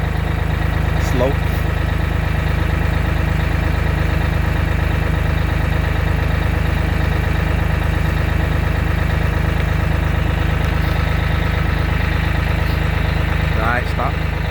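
A New Holland LX865 skid steer's engine runs at a steady, loud idle close by, a constant droning rumble throughout while hydraulic oil is flushed, with only brief faint sounds above it.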